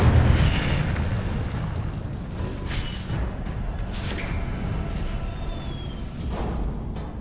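The Incendio fire spell is cast in Hogwarts Legacy, a loud roaring burst of flame with heavy low-end rumble that flares at the start and then sustains as a dense, crackling whoosh for several seconds.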